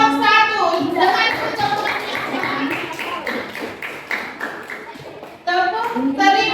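Students in a classroom group perform a rhythmic thank-you clap routine, with a series of sharp claps in a steady pattern mixed with children's voices chanting along.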